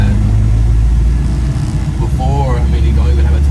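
A 1952 Chevy engine fitted with Aces fuel injection runs with a steady low rumble throughout, with a voice talking over it.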